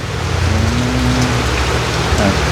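Rain pouring down outdoors in rural Thailand, a dense, even hiss that stays loud and close throughout with no talking.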